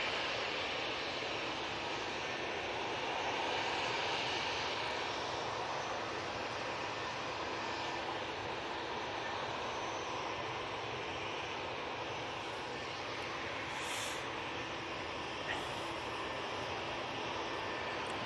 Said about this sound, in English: There's the TAP. Beautiful looking aircraft.